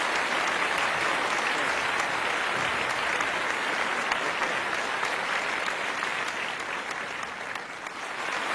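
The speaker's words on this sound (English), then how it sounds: "Ladies and gentlemen, put your hands together as we celebrate 25 years of Wikipedia" A large audience claps continuously at a literature festival celebrating Wikipedia's 25th anniversary, a thick, even wash of applause that holds steady and tapers only slightly at the end.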